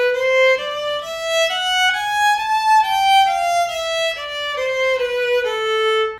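A solo violin plays an A melodic minor scale slowly, one bowed note after another rising and then falling, clear and close with no talking.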